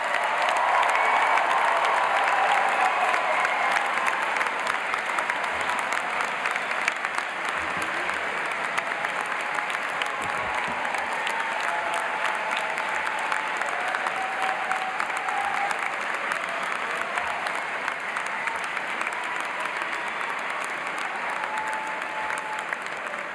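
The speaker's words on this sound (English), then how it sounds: "How about a tremendous round of applause for all of our graduates?" A large commencement audience applauding graduates of a computer science school: sustained, dense applause from many hands filling a big venue, steady and even for a long stretch with a slight early swell.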